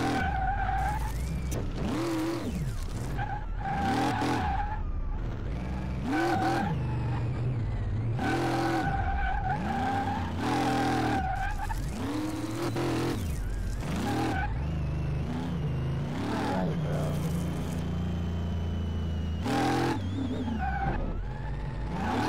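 Ford Mustang Mach 1 engine in the Car Mechanic Simulator video game, revving up and down repeatedly with tire squeal and skidding, loud and continuous throughout.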